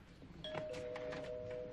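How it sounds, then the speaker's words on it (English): A house doorbell rings in a sitcom scene with a clear, sustained electronic chime over faint room noise. The ring is moderately loud and steady, with no one talking over it. "why does it take 3 rings of the doorbell for you to answer?"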